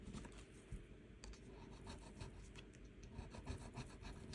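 Close, faint scraping and rubbing as a coin scratches the coating off a raccoon-design scratch card, a rapid irregular series of short strokes without talk.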